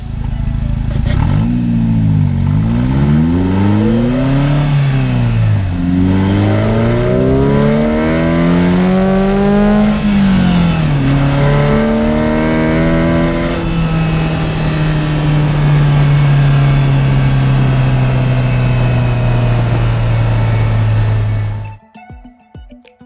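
Polaris Slingshot fitted with a VelossaTech Big Mouth twin ram air intake driving around the block, loud engine revving up through several gear shifts, then a long steady cruise before cutting off abruptly.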